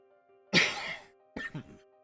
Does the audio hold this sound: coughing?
yes